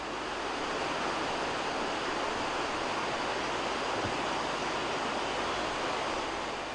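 The Araks river flows in a steady, broadband rush of water that fills the whole stretch evenly and continuously, with no voices over it.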